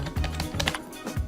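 Quick taps on a computer keyboard while entering parts in point-of-sale software, a rapid uneven run of close, crisp clicks with a few heavier key strikes.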